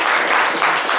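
A live audience claps loudly and continuously, a brief, thick burst of applause from a crowd.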